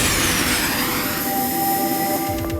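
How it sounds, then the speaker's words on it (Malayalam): A helicopter engine in a cartoon scene gives a loud, continuous turbine whine with rising tones and a low rumble, steady throughout with no talking. "ഹെലികോപ്റ്റർ സ്റ്റാർട്ട് ചെയ്യാൻ"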